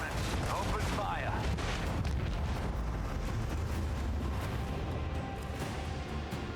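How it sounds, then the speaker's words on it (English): Macro cannons opening fire in the Rogue Trader video game, a continuous rumbling barrage of heavy booming shots layered over dense game noise, with a voice speaking at the start. "Macro cannons, open fire."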